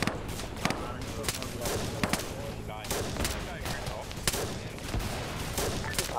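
Machine gun fire in a Vietnam War video game during a boat raid, sustained bursts and heavy clattering gunfire mixed with explosions and battlefield clutter, with voices talking over the din.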